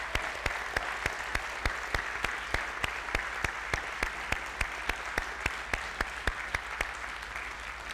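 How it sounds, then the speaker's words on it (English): Audience at a summer program opening ceremony giving a big round of applause, mostly a steady patter of many hands with one sharp, regular clap near the microphone repeating about every third of a second. "Please give them a big applause, because they are the pillars of this program this summer."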